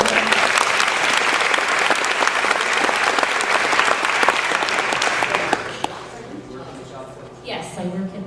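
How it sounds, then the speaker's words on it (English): Dense applause from a college convocation audience fills most of the stretch, loud and continuous with sharp claps, then tapers off abruptly and gives way to quieter room sound and a faint voice. "Big round of applause"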